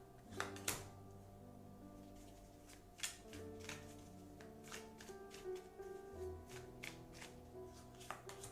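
Oracle cards being shuffled and handled at close range, with soft repeated riffling taps and flicks over a steady background hum, no talking.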